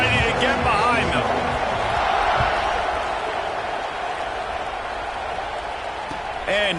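A video game football stadium crowd cheers in a broad, constant roar that swells slightly early and then settles into a steady, full background wash, with brief announcer-like tones at the edges.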